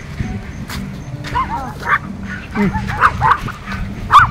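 Several dogs, just given anti-rabies shots, bark and yip in short scattered bursts over a busy outdoor background, with some faint voices around them.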